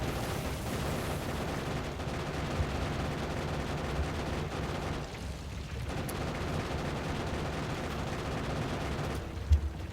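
Factorio gun turrets firing ordinary bullets at enemies, a dense unbroken rattle of rapid automatic fire that carries on for the whole stretch with a brief dip midway.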